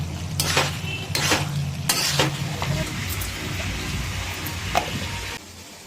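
Green tomatoes fry over a high flame while being mixed for kancha tometor jhal. A continuous close sizzle carries several sharp spatula scrapes, and the sound cuts off abruptly near the end.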